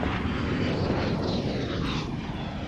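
A fixed-wing airplane lands on runway 27 at an air show, its engine a loud, steady roar that fills the clip with broad, even noise.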